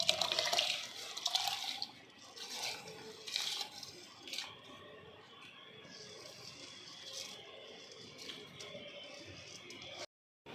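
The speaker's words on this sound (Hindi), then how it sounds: "ये पानी को उबाला आ रहा है। अब इसमें मैं आस्ता आस्ता चावल डाल दूँगी।" Uncooked rice pours into a pot of boiling water for chicken biryani, giving splashy bursts and bubbling that start close and loud, then settle into a quieter simmer before the sound cuts out briefly near the end.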